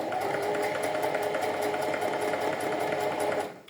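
A sewing machine running steadily at a fast, even rhythm while stitching fabric, close and loud with no talking, before it slows and stops at the end.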